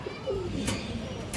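A Rampuri pigeon gives a brief, soft coo close by, with faint background activity and a couple of short noise bursts.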